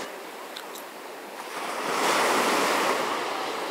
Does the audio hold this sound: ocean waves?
yes